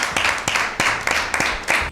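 Audience applause at an Easter Bible quiz, a series of about six sharp clap bursts spaced roughly evenly, fairly loud and close.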